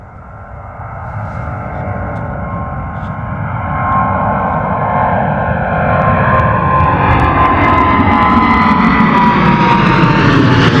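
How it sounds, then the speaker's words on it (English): Jet engines on a departing airliner build to a loud, rising scream and roar as it accelerates down runway 26L at Gatwick, the pitch climbing steadily over about eleven seconds, no voices. "listen to those engines as they absolutely scream down runway 26 left"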